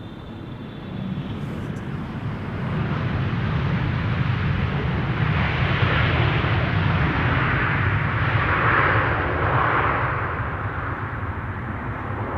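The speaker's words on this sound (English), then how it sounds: "And an Embraer 170 arriving from Humberside." An Embraer 170 airliner arriving from Humberside on approach at Amsterdam Schiphol, a steady broadband jet engine roar that swells from about two seconds and holds loud and continuous, with no talk over it.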